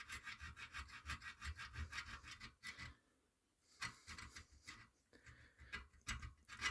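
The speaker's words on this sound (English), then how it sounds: "So anyway, I'm gonna file a little tiny bit here." A metal file rasps across a bicycle spoke in short, rhythmic back-and-forth strokes, close and fairly quiet, with a brief pause partway through and no talking.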